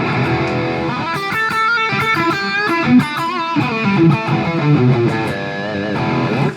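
Electric guitar lead line played through a BOSS GT-8 effects processor, sustained distorted notes with bends and vibrato, loud and upfront with no voices.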